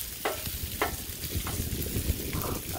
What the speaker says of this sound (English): Sausages actually cooking up pretty quick